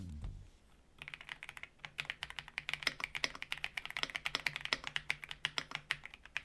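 Rapid, steady typing on an Aula F87 Pro mechanical keyboard up close, crisp clacky keystrokes in a fast even rhythm after a brief quiet start, no voices.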